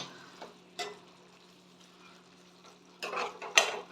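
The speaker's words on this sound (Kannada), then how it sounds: "ಟೊಮೊಟೊ ಪ್ಯೂರಿ ಎಲ್ಲ ಚೆನ್ನಾಗಿ ಫ್ರೈ ಆಗಬೇಕು" Tomato puree fries quietly in a pan for a green pea and capsicum gravy, with a few sharp scraping stirs of a spoon against the pan, the loudest two near the end, over a faint low hum.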